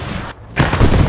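Aerial bombing explosion in the World War II game Post Scriptum, a loud, close burst of booming blasts that erupts after a short quiet gap and keeps rumbling to the end.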